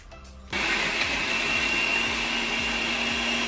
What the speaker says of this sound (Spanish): y llevamos a licuar